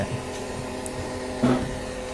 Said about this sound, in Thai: ดูการเคลื่อนที่ของหุ่นยนต์ราคาที่ต่ำพันเนี่ยไม่ถึงพันบาทเนี่ย พอเวลาเราเปิดสวิตช์ปุ๊บเนี่ย